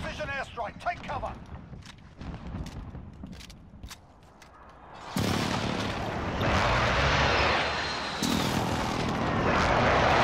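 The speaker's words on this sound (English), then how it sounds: "Precision airstrike. Take cover." A precision airstrike lands in a combat video game, a low roaring rush of aircraft and heavy blasts that swells into a loud, sustained rumble over the second half, after scattered gunfire and a voice talking early on.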